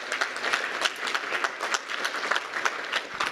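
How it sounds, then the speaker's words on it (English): A crowd applauds sponsors at a university business plan competition awards ceremony: dense, steady clapping from many hands that keeps going without a break. "let's give a round of applause to all of our sponsors tonight"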